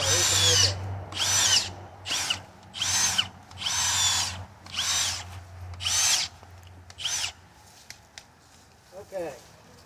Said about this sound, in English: As you see, I like using an auger.